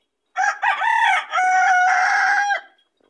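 A rooster crows up close, a loud cock-a-doodle-doo with a couple of short opening notes and a long held final note, alone and clear.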